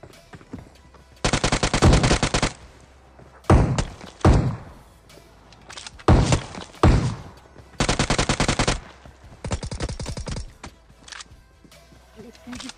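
A UMP submachine gun in PUBG fires in sharp automatic bursts, loud and close, separated by brief pauses, with several single shots and rapid strings repeating across the stretch.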